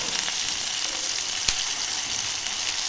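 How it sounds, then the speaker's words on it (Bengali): Chopped onion and tomato fry in oil in a pan for a fish curry, a steady, dense sizzle and crackle with one sharp pop partway through. "তো এই যে দেখো পেঁয়াজ আর টমেটোটা আমি ভালো করে ভেজে নেব"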